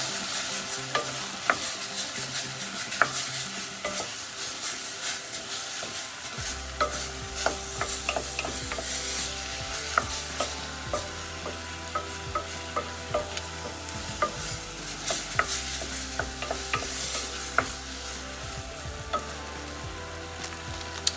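Pav bhaji masala spices are stirred into hot oil in a pan for medicated ghee pav bhaji, giving a continuous soft sizzle with repeated scraping and clinking strokes of the spoon, close up, with no talking.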